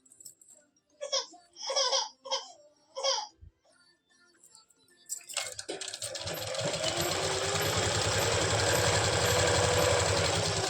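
Stitching runs along the elastic edge of palazzo pants on a sewing machine, a steady close motor hum that starts partway through and builds. A voice speaks in short bursts before it.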